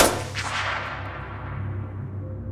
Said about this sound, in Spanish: cuando sonó el tercer disparo